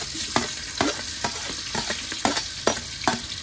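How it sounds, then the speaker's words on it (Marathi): Whole spices crackle and sizzle in hot oil and ghee, with a steady bright hiss broken by regular stirring scrapes roughly every half second, close and clear with no talk. "पहिल्यांदा तेल घातले आपण, आता तूप घातले, त्याच्यात खडा मसाला भाजून घ्यायचा,"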